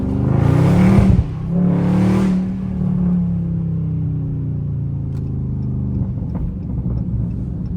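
A 500-horsepower Dodge Scat Pack revs loudly twice in quick bursts, then settles into a deep, steady idle rumble close by, with no talking.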